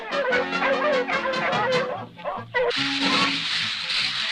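Cartoon sled dogs bark and yip in quick, overlapping bursts over lively background music, with a brief lull before a louder, noisier stretch.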